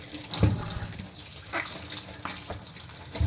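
Fresh oranges are rinsed in water, with irregular splashes and running-water gushes at moderate volume, a few sharper sloshes standing out, and no talking.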